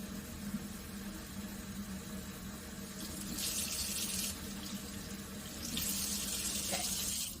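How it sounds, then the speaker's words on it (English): Water runs steadily from a tap into a plastic bottle of all-purpose cleaner, a close hissing stream that grows brighter as the flow increases, with no talk. "then you slowly top it off with water."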